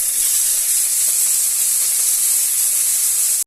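Vegetables for a potato and squash vegetarian dish hit hot oil in a wok, giving a loud, steady hiss of sizzling that holds unbroken from start to finish with no voices.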